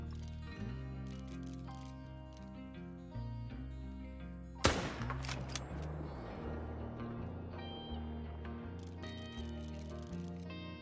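A single close, loud gunshot in a turkey hunt, one sharp crack mid-clip with a brief echoing tail, set against steady tonal music throughout.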